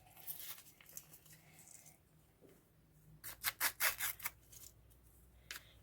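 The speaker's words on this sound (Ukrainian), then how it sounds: "Але прийдеться його порвати." Soft rustling of a paper packet, then a quick series of sharp ripping bursts as it is torn open, close and fairly quiet.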